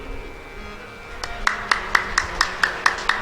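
Audience clapping in slow, even unison at a Shri Ram Katha religious discourse in Sitamarhi, Bihar: about eight crisp, evenly spaced claps that begin after a quiet moment, with a faint background hum.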